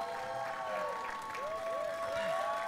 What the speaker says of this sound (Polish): Wielkie brawa, Grzegorz Niecko!